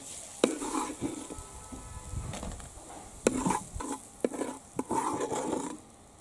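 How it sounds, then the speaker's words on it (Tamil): Grated coconut for raw mango chutney being sautéed in a pan, a utensil stirring and scraping with a few sharp clinks over a low, steady sizzle, close and quiet with no voices. "தேங்காய் போட்டு ரொம்ப நேரம் வதக்க வேண்டாம் ஒரு ரெண்டு நிமிஷம் அப்படியே பரட்டி விட்டால் போதும்"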